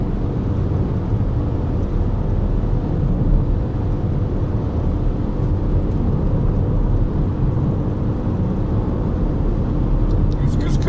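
A Ford Puma accelerates hard at full throttle up a ramp, its engine a steady loud drone heard from inside the cabin, with someone speaking over it.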